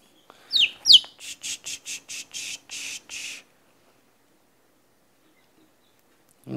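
A young chick with curly-toed paralysis squawks while its toes are taped, two sharp cheeps followed by a rapid string of raspy distressed peeps, close by, then quiet.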